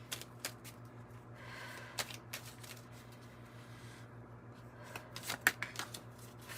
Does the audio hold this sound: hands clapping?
no